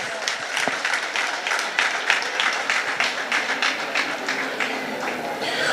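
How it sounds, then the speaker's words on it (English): Audience applause after a children's performance at a village day celebration, a steady dense wash of many hands clapping, fairly loud and continuous throughout with no clear voices. "please put your hands together for this wonderful performance"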